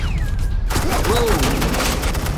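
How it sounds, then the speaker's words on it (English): Gunfire in the video game Batman The Enemy Within, a dense, loud barrage of rapid shots and crackling impacts after a sudden onset, with a voice and game sounds mixed underneath. "This is Agent Quinn, suppressing fire"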